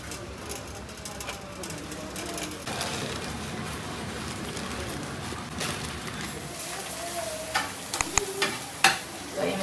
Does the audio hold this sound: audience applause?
no